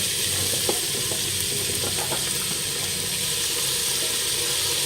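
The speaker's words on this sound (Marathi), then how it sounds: "तर आता आपण भाज्या टाकून घेऊया" Vegetables for Mumbai street-style pav bhaji sizzle steadily in a hot pan, a continuous close frying hiss with faint stirring clicks and no voices.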